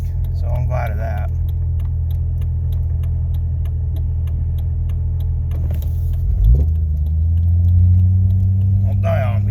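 A Jeep engine runs steadily while driving ahead of a severe thunderstorm, a low constant rumble with a brief shift or surge near the end, with a voice speaking over it at times.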